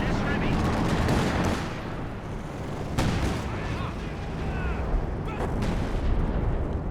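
Tank and howitzer fire in a 3v3 Company of Heroes 2 match, with a Panzer IV shooting at light field howitzers: booming cannon blasts and dense battle rumble throughout, under a commentator's talk.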